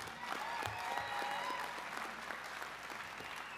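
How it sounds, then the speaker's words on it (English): Audience applause at a convention session on parole and prison re-entry, a fairly quiet, even patter of clapping from a seated crowd that holds steady throughout. "Another round of applause for Mr."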